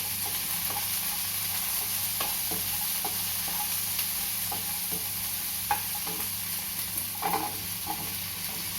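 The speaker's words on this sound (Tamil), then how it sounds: "இந்த வெஜிடபிள்ஸ்லாம் போட்டு கொஞ்சம் ஹை ஃப்ளேமில் வச்சுருக்கணும் ஃபார் இனிஷியல் few minutes." Vegetables sizzle on high flame in a pan for a millet ramen, a constant close frying hiss with soft scraping stir strokes and occasional spatters.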